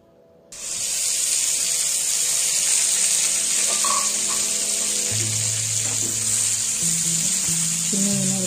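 Stuffed brinjals dropped into hot oil with ginger paste in a pan start a sudden loud, steady hiss of sizzling, with faint scraping and clinks underneath, no voices.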